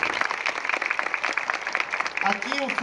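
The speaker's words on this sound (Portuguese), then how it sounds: "um aplauso para ele, pessoal." Audience applause for an accordionist at a Natal Luz Christmas event in Frederico Westphalen, moderately loud and steady, with a voice speaking over it toward the end.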